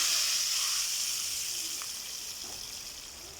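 Steady, bright sizzling of cumin seeds frying in hot oil for a dal tadka, close by, slowly fading quieter over a few seconds.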